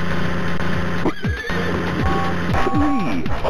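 Horses neigh and whinny amid the chiptune-style music of a Thomas & Friends circus train video game, with several rising and falling whinnies clustered near the middle and end, loud and close over a steady musical backing.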